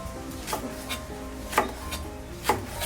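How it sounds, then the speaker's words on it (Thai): A knife slices spur chilies thinly on a cutting board, producing three distinct chopping knocks about a second apart with soft rubbing strokes between them, close and clear with no talking. "ในส่วนของพริกชี้ฟ้านะคะ ให้ทุกคนหั่นแบบบางๆ ยาวๆแบบนี้"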